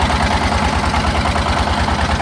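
A trawler boat's engine chugs on a river, a loud, steady, close-up low drone with a rapid, even throb and no pauses or voices.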